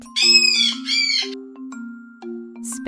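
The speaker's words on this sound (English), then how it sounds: "Parrot." A parrot lets out two short, loud, harsh squawks in quick succession, close and shrill, followed by near silence and a faint brief chirp at the end.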